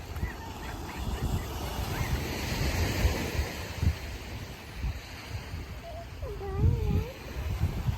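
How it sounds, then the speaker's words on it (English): Ocean waves wash onto a sandy beach with a steady rushing surf and gusty wind against the microphone, and faint bird calls come in near the end. "Look at those waves. Walking right along the beach."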